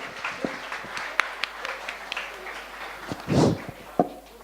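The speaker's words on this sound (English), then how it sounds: "a big round of applause to all of them" Scattered claps and taps from a small audience at a school annual day, thin and uneven, with a brief louder burst of clapping near the end.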